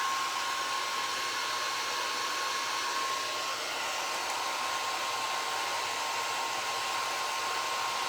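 A hair dryer runs continuously at high setting, a steady loud close whoosh with a faint whine, used to dry recycled glass jars being made into potion bottles.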